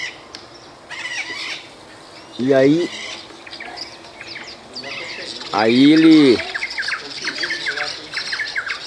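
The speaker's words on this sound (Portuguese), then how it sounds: "Que pássaro será isso, hein?" A bird squawks loudly twice with harsh, drawn-out calls in a rural area of Mato Grosso, Brazil, amid softer chirps and insect buzz, with someone speaking briefly.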